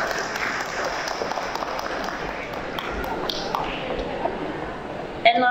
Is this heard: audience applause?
yes